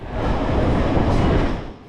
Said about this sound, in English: So we need to travel 9 stops on line 2, the inner loop line of the fast and efficient subway system.